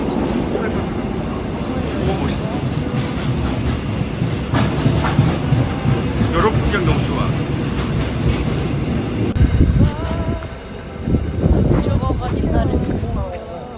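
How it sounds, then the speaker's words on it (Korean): A train moving past in a station yard where many trains stand for maintenance, steady rumbling with some rail clatter, close by, while people talk over it. "여기 열차 서 있는 게 많이 있네."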